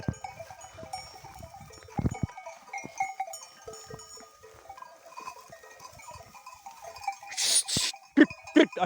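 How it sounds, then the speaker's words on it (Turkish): A flock of sheep grazing and stripping a hawthorn bush, with scattered bleats, rustling and munching nearby, a few louder sharp calls near the end. "Şuraya baksana her tarafını sarmış koyunlar."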